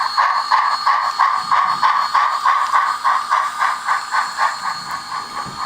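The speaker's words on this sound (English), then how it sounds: "you can hear the chuff is really loud" A steam locomotive runs in reverse under rising throttle, its loud rhythmic chuffs repeating steadily with a hissing, mechanical texture and no voices.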